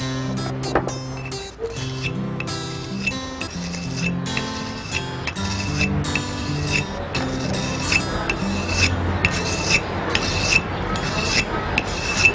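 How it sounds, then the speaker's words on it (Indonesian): Continuous scraping and rasping of nail clippers rubbed back and forth on a wet whetstone, with small clinks and taps throughout, close and fairly steady. "Ini bisa menggunakan batu asah, bisa juga menggunakan amplas ya, tapi amplas yang halus"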